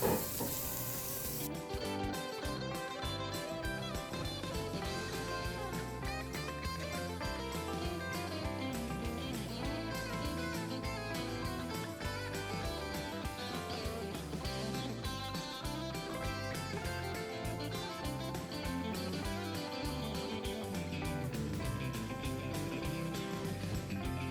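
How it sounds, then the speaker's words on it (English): Food sizzles steadily as pieces are laid into a hot frying pan, a continuous hiss running the whole time over a dense tonal background that sounds like music. "You hear that noise? A sizzle? That's what you're looking for."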